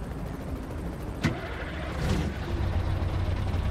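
A Scania V8 truck engine sound mod in Euro Truck Simulator 2, idling with a low steady rumble, a short hiss and a mechanical click partway through, close and even.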